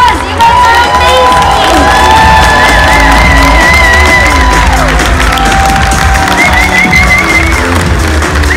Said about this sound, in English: Let's give everyone just a huge round of applause.